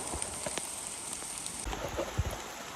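Rain pattering on a muddy hill trail on the way to Nyabau Hill waterfall, a steady close hiss of drops with scattered louder splats and thuds.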